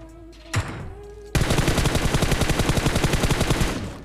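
Gunfire in a mobile battle royale game during a duo conqueror rank push: a single sharp shot, then after a pause a loud, sustained automatic burst of rapid, evenly spaced rounds lasting over two seconds.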